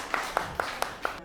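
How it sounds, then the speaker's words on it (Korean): Five widely spaced, sharp claps ring out at a steady rhythm from a small gathering welcoming three guests at a Korean disability deinstitutionalisation event, fairly faint with a quiet room tone between them. "큰 박수 부탁드립니다."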